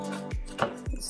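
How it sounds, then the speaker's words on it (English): Knife chopping tomatoes on a cutting board, a few separate thuds spaced over about a second, close and fairly quiet. "So I'm just gonna chop up my tomatoes first."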